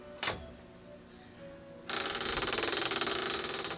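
Longarm quilting machine stitching rows across a strip quilt, starting up after a brief quiet stretch and then running loud with a steady rapid needle chatter close by.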